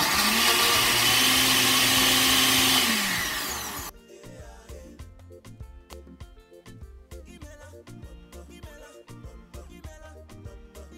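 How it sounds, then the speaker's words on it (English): A blender whirs loudly at high speed for about four seconds blending water yam pieces without added water, its pitch dropping as it winds down, followed by quieter clattering background sounds. "I put it in my blender and I blend"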